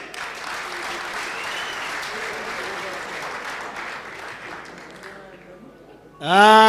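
Sustained audience applause at a comedy show, a dense patter of many hands that slowly thins out before a voice cuts in at the end.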